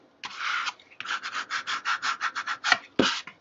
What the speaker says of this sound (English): So burnish that down.